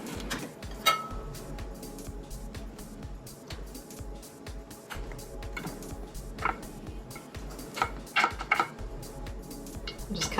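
A knife or cutter slices a vegan corn meal pizza into four in its pan, a run of scraping, clicking cuts and light metal taps against the pan, close and fairly quiet.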